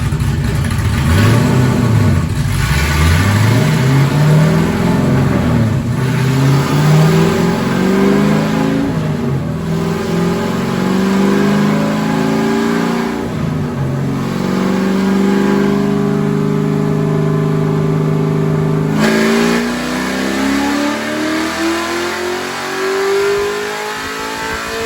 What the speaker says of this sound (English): So we'll do another pull here, and then we'll overlay it on the graphs and see what they look like.